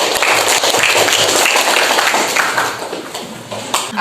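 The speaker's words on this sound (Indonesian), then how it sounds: "Tepuk tangan untuk kelompok 3." Classmates applaud a student group after their presentation in a classroom: a dense burst of clapping that is loudest at first, then thins and fades toward the end.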